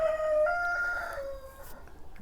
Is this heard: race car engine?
no